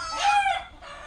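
On a natural food-forest farm, a rooster crows once, close and fairly loud, with faint clucking after it and no talking.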